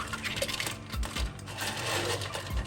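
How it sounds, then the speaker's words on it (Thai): Fresh clams for vongole pasta are scrubbed one by one with a brush, giving a run of close, rattling clacks and scraping that pulse unevenly throughout. "ล้างหอยด้วยแปรง"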